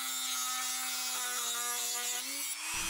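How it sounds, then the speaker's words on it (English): A Dremel cutoff wheel grinds through a tricopter boom, a loud continuous high whine that holds steady then dips slightly in pitch as the cut finishes, close and alone. "I'm just using a Dremel with a cutoff wheel"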